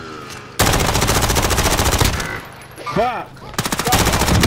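Rapid automatic gunfire in Call of Duty: Modern Warfare quads play, loud sustained bursts that pause briefly mid-clip then resume in fast rattling volleys, with a shouted curse and game voices over it.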